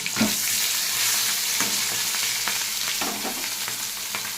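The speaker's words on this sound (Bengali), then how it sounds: "মাছগুলোকে উল্টে দিচ্ছি।" Turned pieces of salted, turmeric-coated fish crackle and sizzle steadily in hot oil, a close, continuous spitting hiss with scattered pops and light scraping, no voices.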